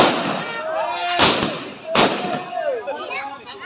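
Two sharp, loud blasts about a second apart as explosives blow up a banana tree, with voices talking and a whistling tone through the noise of an outdoor crowd.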